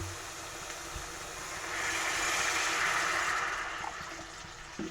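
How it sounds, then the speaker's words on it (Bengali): Water is poured into a pan of sautéed eggplant for a Bengali tangra fish curry gravy, a soft rushing splash swelling for a couple of seconds over low kitchen background noise. "এখন গ্রেভির জন্য জল দিয়ে দেব"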